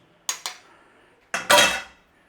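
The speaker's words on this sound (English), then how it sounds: "We're going to take a knife and we want a couple of slits in the top of there" A knife cuts slits into the pastry top of a chicken massaman pie in a pie dish, producing four sharp clinks and scrapes against the dish, close and clear with quiet pauses between.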